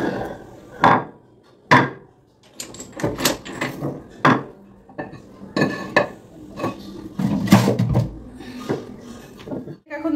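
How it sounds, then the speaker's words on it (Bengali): A stone grinding slab and pestle (shil nora) being pulled out of storage: heavy knocks, clatters and scrapes of hard objects being handled and set down, mixed with someone talking nearby. "চলো আমার শিল নোড়াটাই বের করি"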